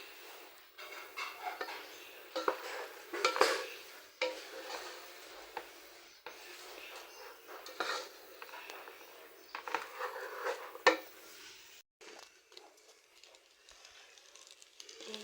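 Dry scraping and rustling from stirring rice as it fries in a pot for vegetable khichuri, with irregular rasping strokes up close and brief pauses between them.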